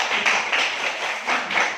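A class of pupils in a classroom applauds a classmate with a dense, continuous burst of clapping lasting under two seconds, fairly loud and close, with no speech over it.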